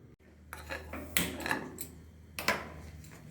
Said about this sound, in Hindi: पहले हम तिल को भून लेंगे